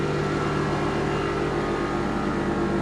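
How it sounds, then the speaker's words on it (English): A Toyota GR Supra A90 idles with a steady, loud mid-range engine drone and no change in pitch, constant throughout. "Started the car up, and I don't know if you can hear it."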